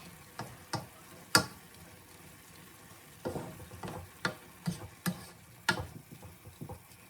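Pork frying in a pan for bihon noodles, a low sizzle under a series of sharp irregular clacks and scrapes from a utensil hitting the pan, close and alone without talk.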